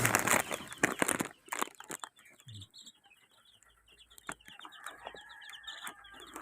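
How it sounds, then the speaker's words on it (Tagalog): Black chickens cluck and chatter nearby in short, repeated calls, with rustling and a brief voice in the background. "yung mga itim na manok"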